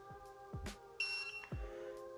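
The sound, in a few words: TPMS monitor beep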